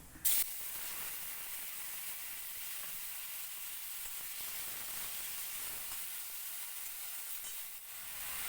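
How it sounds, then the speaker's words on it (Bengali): Mashed jamun hits a hot pan and sizzles, a steady close hiss after a brief initial clatter that carries on evenly for several seconds. "এবার আমি এর মধ্যে এই চটকানো জামগুলো দিয়ে দিচ্ছি"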